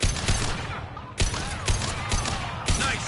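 Bursts of rapid gunfire in Mass Effect Legendary Edition combat, several sharp volleys over a few seconds with brief pauses, loud and close amid faint electronic game effects.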